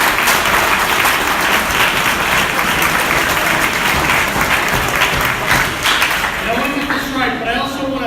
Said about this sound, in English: Let's give him a round of applause as he gets to go.